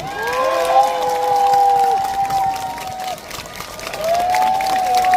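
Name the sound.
rally crowd applauding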